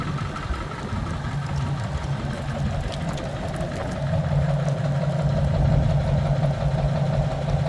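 A 1999 Ford F-350 Super Duty 4x4 XLT truck engine idling outdoors on a windy day, giving a steady low rumble with wind noise mixed in.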